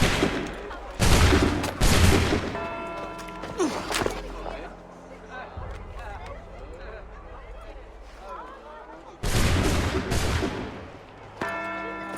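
A massed musket volley from Assassin's Creed 3 Remastered cracks out loud and close as a broad burst, then a second volley follows several seconds later, with a voice and tense game ambience between the shots.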